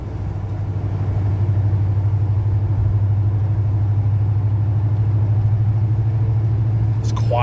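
A 1985 Monte Carlo cruising along with a steady, low engine and road rumble that holds even and smooth throughout, with a brief faint clatter near the end.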